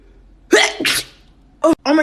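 Close indoor sneezing: a sharp sneeze burst followed by a second, then two more quick sneezy bursts near the end, with no speech.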